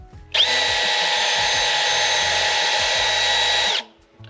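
Power drill spinning a green Scotch-Brite pad to clean an engine valve from an E36, a steady loud whirring whine of about three seconds, starting and stopping abruptly, close up and alone.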